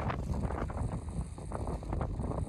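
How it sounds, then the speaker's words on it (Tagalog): Strong wind buffets the microphone at a beach in Pangasinan, a steady loud rumble and roar that continues without a break. "Lakas ng hangin."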